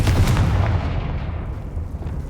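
Confringo, a fire spell in the game Hogwarts Legacy, goes off as a deep booming blast that then rumbles and fades away over a couple of seconds.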